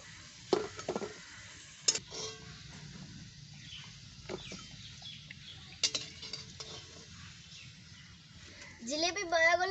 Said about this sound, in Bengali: সবগুলো জিলিপি বড়া আমাদের ভাজা হয়ে গেল, এখন আমি তুলে নিচ্ছি।